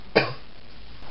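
A person coughs once, a single short sharp burst near the start, followed by quiet room tone.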